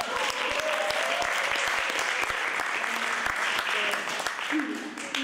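A concert audience claps steadily throughout, a dense patter of many hands, with a voice speaking over the applause.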